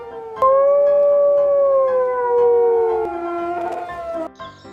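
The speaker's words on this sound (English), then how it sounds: "Wolf." A wolf gives a long, loud, sustained howl that slides slowly downward in pitch, then breaks into a shorter second howl before fading.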